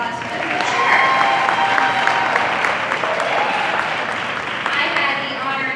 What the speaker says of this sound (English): you guys can give a round of applause for them